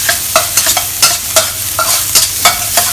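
Chopped ginger stir-fries in a hot wok, a loud close sizzle broken by repeated scraping stirs in an irregular rhythm, no voices.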